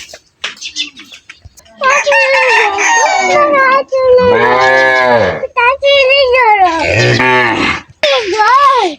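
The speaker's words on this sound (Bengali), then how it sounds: "দেখেন কত গরু।" Cows moo in the morning at a rural Bangladeshi homestead, several long, loud, drawn-out calls one after another, close by, with a rooster crowing faintly in the background.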